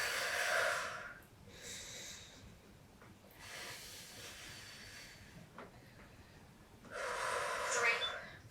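Heavy breathing during a HIIT full-body workout: loud bursts of hard exhales and snorting breaths at the start, middle and end, separated by quieter gaps, close to the mic.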